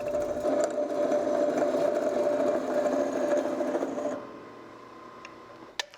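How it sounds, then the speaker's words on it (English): Mittler Brothers notcher running in a race shop, a steady mechanical whine and hum for several seconds that then stops, followed by a few faint clicks and taps. "They have a Mittler Brothers notcher."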